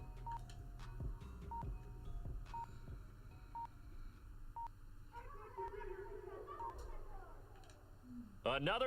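A cell phone chimes with a run of short, evenly spaced electronic notification beeps during a Madden NFL 21 football game broadcast, followed by a brief burst of chirpy tones, all under steady game commentary noise.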